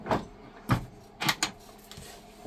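A kitchen cutlery drawer in a Challenger 240 Open Edition camper van being opened, giving a few short sliding and knocking sounds spread across a couple of seconds, close and fairly quiet, with no talking.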